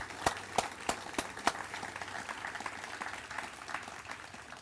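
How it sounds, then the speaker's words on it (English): Applause from an outdoor crowd at a waterfront park trail dedication: a few sharp, distinct claps come first, then a softer, thinner patter of hands that carries on at a distance. "I'd like to take a moment just to give them a round of applause."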